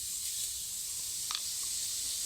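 Carom seeds and cumin sizzle in hot oil in a kadai with a steady, bright hiss, interrupted by a single brief crackle.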